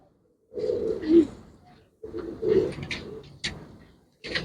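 Pigeons coo in three low, throaty bursts at close range, each a rolling call separated by brief silences, with some light rustling between.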